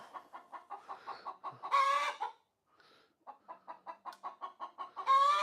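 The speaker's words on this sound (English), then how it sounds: "they're making a racket. The chickens are." Chickens squawk and cluck loudly and close by while perched on an air compressor, in rapid repeated bursts broken by two louder, drawn-out rooster-like calls, with a short quiet gap in the middle.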